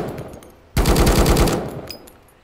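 An M4 rifle in a video game fires a short burst of rapid automatic shots, loud and close, followed by a brief metallic click.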